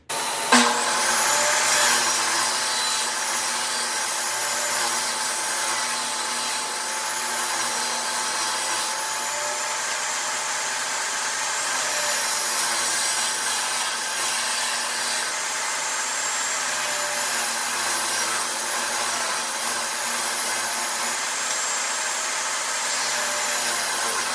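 A power saw cuts wood for a cigar box, a loud, steady high-pitched whirring drone that starts with a sharp bite and runs continuously without pause, with no talk.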